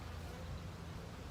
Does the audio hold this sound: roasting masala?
no